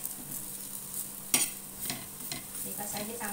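Elephant yam slices fry in an oil-filled pan with a soft, continuous sizzle, broken by a few sharp clinks and scrapes as the pieces are turned one by one.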